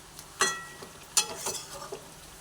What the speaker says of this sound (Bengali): এরপর একটু ওপর নিচ করে নাড়াচাড়া করে দিই